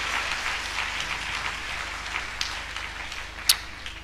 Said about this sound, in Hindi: एक और बार ताली बजाकर परमेश्वर का धन्यवाद करें इस वचन के लिए।